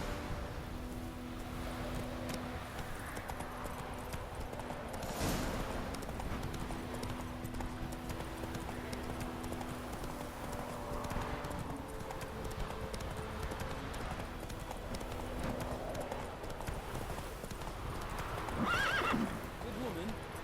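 Roach, the horse in The Witcher 3 video game, clip-clops in a steady hoof rhythm at close range over game ambience, with a whinny near the end.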